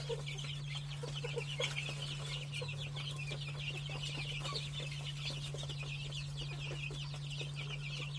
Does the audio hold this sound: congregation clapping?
no